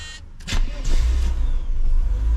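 Mercedes W124 cranking and firing up after sitting for three months: a brief starter whine, then the engine catches quickly and settles into a loud, steady low rumble close by.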